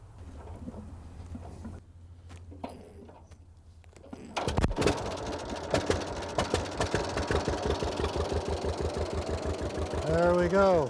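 A John Deere tractor engine cranks and catches with a loud start, then settles into a steady, rhythmic chugging idle close by, with a throttle change near the end and a voice talking early on.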